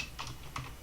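Quick keystrokes on a computer keyboard, three crisp clicks in a short burst, close and fairly quiet.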